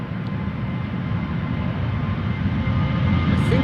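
Transavia airliner departing Amsterdam Schiphol Airport, a steady, broad engine roar that slowly builds in loudness over a few seconds, heard at a distance with no voices.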